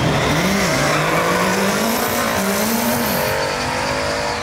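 Ford Mustang and Audi cars drag racing, with loud continuous engine roar and rising, shifting revs from accelerating cars, plus faint tire noise throughout.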